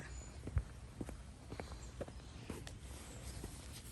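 Quick running footsteps on the ground as rain starts to fall, a string of sharp irregular steps close by.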